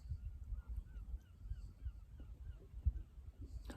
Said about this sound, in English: There's always a seagull, isn't there?